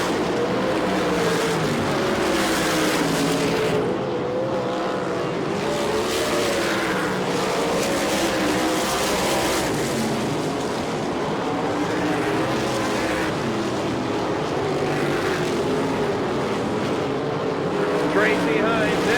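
A USAC midget race car in a 1999 four-crown event roars continuously down the back straightaway near the end of a race, a loud sustained engine drone mixed with other cars and crowd noise from a distance.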